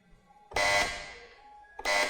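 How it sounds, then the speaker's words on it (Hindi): A game show buzzer is pressed twice on the comedy quiz show Chatti Ke Bachay Apse Achay. Each press gives a loud, harsh electronic buzz. The first is long and trails off, and the second starts sharply near the end. "उन्होंने बजर दबा दी"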